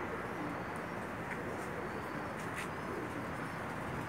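A pair of pigeons, a male and a female of the Sharmila breed, coo faintly and intermittently over a steady background hiss, with no talking.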